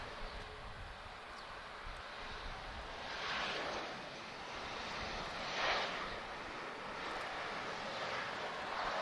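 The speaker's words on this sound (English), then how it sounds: "the A320neo about to depart is off to Heathrow" British Airways Airbus A320neo airliner at Lisbon Airport, its engine roar steady and moderately distant, swelling in a few broad surges as it moves, with no talking.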